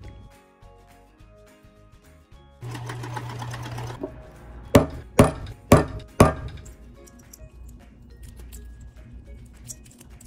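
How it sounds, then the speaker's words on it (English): A sewing machine stitches leather straps onto a backpack: a steady motor whir runs for a stretch, then four loud, evenly spaced heavy thumps of the needle punching through thick material, with no voices. "Then the new straps were simply sewn back onto the backpack"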